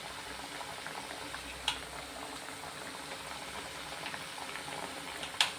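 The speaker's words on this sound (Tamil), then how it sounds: "எண்ணெயில் ஸ்லோவில் தான் வச்சுருக்கேன், ஸ்பீடில் வைக்காதீங்க, ஸ்லோவிலே வச்சு ஒன்று ஒன்றா போட்டு பொரிச்சு எடுத்துக்கணும்." Wheat-flour sweet pieces deep-frying one by one in oil over a low flame, giving a steady soft bubbling hiss with two brief louder pops, no voices.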